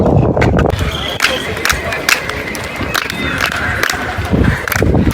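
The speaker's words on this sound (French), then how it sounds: "les gens applaudissent parce que après on entend le bruit de Quetzal qui vient directement du sommet du temple" A crowd of visitors claps in front of the temple at Chichen Itza, sharp separate claps ringing out over outdoor crowd noise and chatter.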